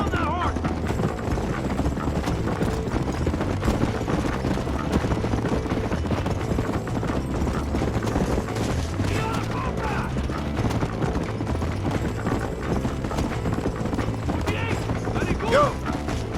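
Horse hooves galloping in Red Dead Redemption, a steady rapid clip-clop that runs throughout under game music and ambience, with voices talking over it.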